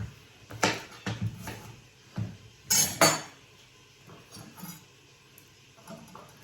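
A knife slicing potatoes on a board for a fish pie, a series of sharp close chops and clicks in an irregular rhythm, with two louder knocks midway, alone with no talk.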